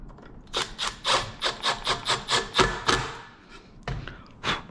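Screws being driven back into a refrigerator fan motor mount on a Subzero fridge, heard as a quick run of about a dozen rhythmic rasping, scraping strokes followed by a pause and a couple more close, dry scrapes.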